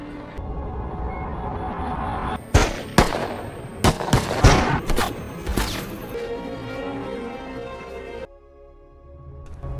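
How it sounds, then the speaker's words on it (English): Police gunfire in a film: a rapid burst of loud gunshots cracks out in quick succession over a tense rumbling backdrop, then the shots cut off into quieter ambience. "They aim their weapons at him and open fire, brutally shooting him"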